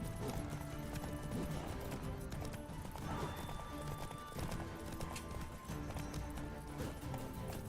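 Rhythmic hoofbeats of several horses galloping steadily in The Witcher video game, with a brief whinny, set against a busy game background and no talking.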